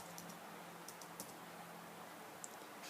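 Someone types a search word on a computer keyboard, a few quiet scattered key clicks over a constant background hiss, no voices.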